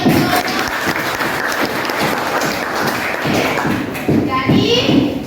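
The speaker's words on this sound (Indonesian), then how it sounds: "Beri aplaus." Classroom applause from a group of students, steady clapping sustained throughout with children's voices chattering beneath it.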